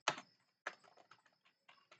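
Computer keyboard typing JavaScript code: a few sharp, close key clicks in short irregular bursts, with quiet gaps between and no talk.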